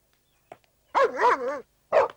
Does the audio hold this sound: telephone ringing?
no